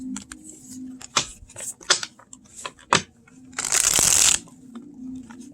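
A tarot deck on Llewellyn cardstock is shuffled up close, with crisp riffling bursts and taps that build into one long, loud riffle before settling.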